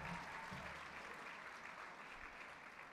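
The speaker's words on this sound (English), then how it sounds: "Another big round of applause for Coolaroo South." Sustained applause from an audience at a primary school performance, a steady wash of many hands clapping at moderate distance, fairly faint and continuous throughout.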